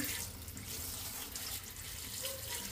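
Cabbage being washed for kimchi under a running kitchen tap: a steady, fairly quiet stream of water splashing into a sink with faint bits of handling, no talk.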